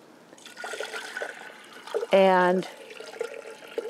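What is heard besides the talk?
water poured in to soak clematis roots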